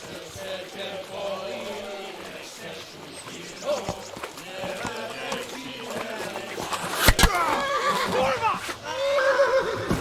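A horse whinnies in the game Kingdom Come on a riverbank, a rising neigh near the end amid game music and voices talking.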